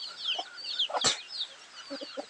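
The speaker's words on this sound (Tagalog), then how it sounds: "Mga bagong sisiyo" Farm chickens clucking close by in a backyard flock, with soft repeated clucks and chirps and one sharp knock midway.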